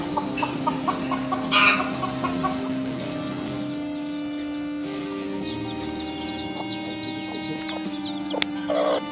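Kadaknath chickens cluck and murmur nearby, with a steady low hum underneath and a few louder squawks.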